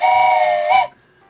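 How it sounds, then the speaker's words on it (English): Train whistle in the OpenTTD railway game, a loud steady tonal steam-style blast with a short upward lift at the end before cutting off into near silence. "We got a train whistle."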